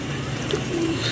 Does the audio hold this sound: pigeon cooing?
yes